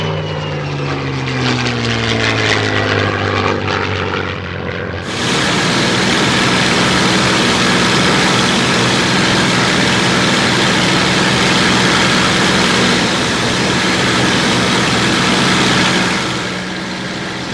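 A Supermarine Spitfire's piston engine drones loud and steady during an air display flight alongside a DH 115 Vampire, with a roaring, sustained tone after a shifting, swelling start.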